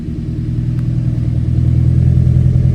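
Nissan Sentra B15 Spec V engine revving through a custom full 3-inch exhaust with a light pop tune, a loud, deep, steady rumble that builds slightly over a few seconds, heard alone.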